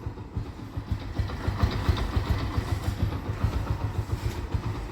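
A motorcycle engine idles steadily after a cold-weather start, with a rapid, even low thumping that runs throughout, close by and fairly loud.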